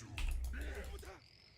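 Short croaking and chirping calls from Nazeebo's toads in Heroes of the Storm, a brief cluster of warbling sounds over low game rumble.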